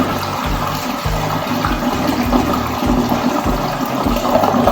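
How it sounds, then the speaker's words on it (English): An extra tall toilet with a 20-inch-high bowl flushing, a loud close continuous rush of water with a steady churning gurgle throughout. "let's get that flush going once more and to get you the evaluation of the flush power."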